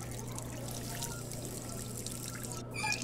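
Water pouring into a kettle in the video game Job Simulator, a steady continuous trickling stream running for a few seconds, fairly quiet, followed by a brief clink.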